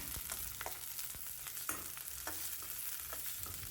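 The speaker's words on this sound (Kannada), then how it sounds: "ಈರುಳ್ಳಿನ ಒಂದು ನಿಮಿಷ ಹುರಿದಿದ್ದೀನಿ" Onions sizzle and crackle in oil in a pan for a Mangalore cucumber buttermilk curry, with a steady close fry broken by light stirring clicks.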